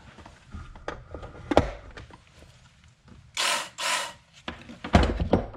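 A Work Sharp electric knife and tool sharpener whirs in two short bursts near the middle, close and fairly loud, with scattered handling clatter and knocks around them.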